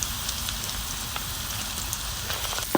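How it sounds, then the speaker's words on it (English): Tomato paste sautéing in a pan for Filipino menudo: a soft, steady crackling sizzle like light rain, even and continuous, with faint scattered pops and no voices. "So we'll saute this for about a couple minutes"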